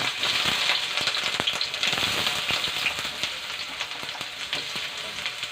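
Sautéing in a pan as the base for pompano sinigang, a Filipino sour fish soup: a steady, bright sizzle of frying fills the clip, with scattered crackles and light stirring scrapes, close and fairly loud, with no talk.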